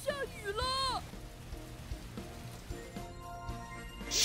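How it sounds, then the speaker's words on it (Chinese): Cartoon rain patters steadily in the Hongen Literacy children's game after clouds are tapped, with bright chiming game tones at the start and a soft musical background. "下雨了。"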